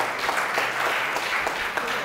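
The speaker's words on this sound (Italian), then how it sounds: "Fate un bel applauso a questa cara" A church congregation applauds a sister during a sermon, a steady wash of clapping from many hands that fills the room throughout.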